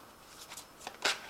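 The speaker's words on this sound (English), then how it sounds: "I have shuffled this deck. I'm just going to draw some cards from it." Tarot cards are drawn from a deck in a few quiet, soft papery slides and flicks, building to one louder card snap near the end, close and alone.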